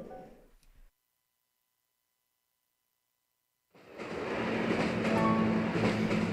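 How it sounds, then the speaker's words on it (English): A train ride in the Animal Crossing video game: after a brief sound and a few seconds of silence, a steady rolling rumble of rail carriages starts and continues loudly to the end. "It's been a long time since I've enjoyed a train ride this much."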